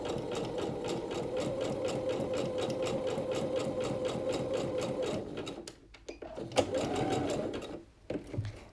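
A domestic sewing machine set to a basic straight stitch runs steadily through fabric with a fast, even mechanical whir, then stops and restarts in short bursts near the end.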